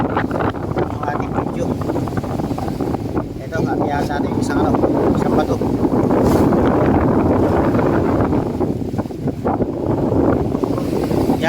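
Strong wind buffets the microphone in heavy low rumbling gusts over the open Pacific Ocean, with a boat's drone underneath and a faint voice at times.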